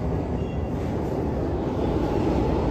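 A train rolls into Bidhannagar station with a dense, steady rumble and rattle of wheels and carriages, close and unbroken for the whole stretch.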